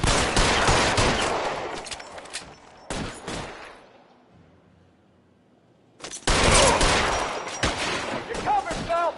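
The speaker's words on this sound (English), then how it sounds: "Several shots." Volleys of loud, close gunshots from L.A. Noire, a 1940s crime drama, in two heavy clusters separated by a quiet lull of a couple of seconds, with a voice heard near the end.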